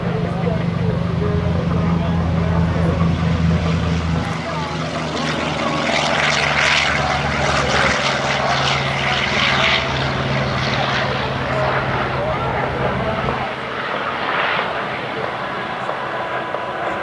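Aircraft engines roar steadily and loudly at the 2010 Westfield International Airshow, where an F-18 Hornet and the U.S. Navy Legacy Flight perform, while an announcer talks over the continuous drone.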